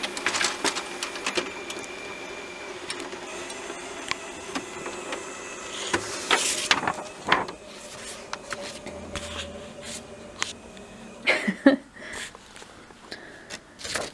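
A printer works through a paper roll, its carriage whirring and shuttling with irregular clicks, clacks and short mechanical bursts, heard up close and without talk.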